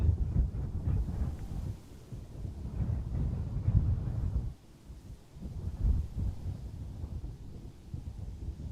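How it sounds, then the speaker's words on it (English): Strong wind gusts buffet a microphone at Amsterdam Schiphol Airport, a loud, continuous low rumble that surges and eases with a brief lull midway. "the wind gusts are very strong"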